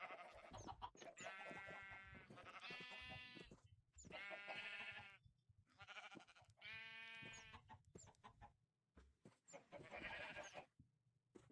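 Sheep in a video game bleat repeatedly, four or five drawn-out wavering calls separated by short pauses, close and clear, with occasional faint clucking from chickens nearby and no talk.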